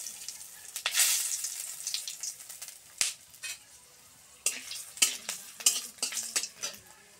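Bay leaves and whole garam masala, cloves, cinnamon and cardamom frying in a little oil, with a soft sizzle broken by sharp spoon-on-pan stirring clatters that come in clustered bursts; no one speaks.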